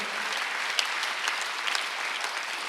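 A church congregation claps together during a Sunday worship service, a steady dense wash of applause that holds evenly throughout without speech over it.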